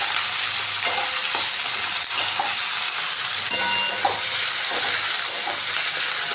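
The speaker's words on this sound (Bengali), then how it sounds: "এটাকে ততক্ষণ নাড়বো যতক্ষণ না এটা গোল্ডেন ব্রাউন হয়ে" Chopped onions stirred while frying in a pan for a desi egg curry, a steady loud sizzle with scraping spatula strokes at irregular intervals, no talking.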